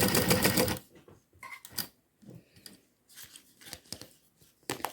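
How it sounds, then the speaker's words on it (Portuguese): A sewing machine stitching slowly through crystal-clear plastic for a book cover, with a loud whirring run at the start, then short, quiet bursts of stitching and handling noises. "E vou costurando devagar, até chegar onde eu preciso fazer a curva."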